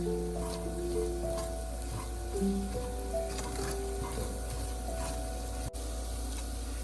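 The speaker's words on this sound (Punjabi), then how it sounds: "ਹੁਣ ਲਸਣ ਸਾਡਾ ਭੁੱਜ ਗਿਆ" Garlic fries in desi ghee in a pan with a soft, continuous sizzle under faint steady hum, plus a few light ticks and clinks, and no talking.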